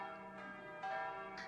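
A tolling church bell rings faintly, its sustained metallic hum fading slowly with a fresh soft stroke partway through.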